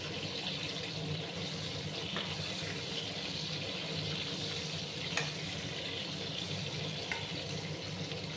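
Pieces of pointed gourd frying in hot oil in a pan, giving a steady, continuous sizzle with a few faint clinks, close and alone with no talking.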